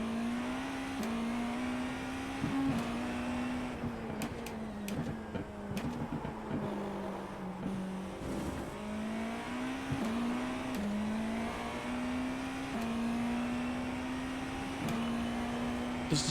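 A race car engine in the iRacing sim drones close and steady, pitch climbing through each gear then dropping sharply at every shift, with a few short dips and roars over about sixteen seconds.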